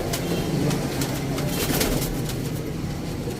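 Sialkoti pigeons coo softly amid a busy, noisy outdoor background, their calls blending into a steady wash of ambient sound throughout.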